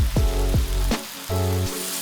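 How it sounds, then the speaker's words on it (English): Chicken sears in hot oil in a wok, a steady broadband sizzle and bubbling running beneath loud low tonal sounds that rise and fall. "I want to hear sizzle, searing, I want that chicken to be bubbling away"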